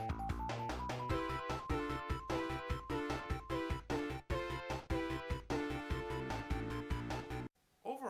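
Video game music from Sonic Chronicles: The Dark Brotherhood said to remix old Sonic tunes, a rhythmic track with a punchy repeating beat and bright melody, quiet overall, cutting off briefly near the end.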